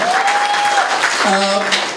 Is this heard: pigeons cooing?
no